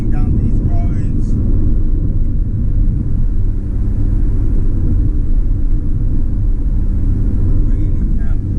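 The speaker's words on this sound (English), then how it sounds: "It's quite a comfortable car to drive at speed." A Toyota Celica VVTi drives at speed, heard from inside as a steady, loud low rumble of engine and road noise that holds constant throughout with no talking.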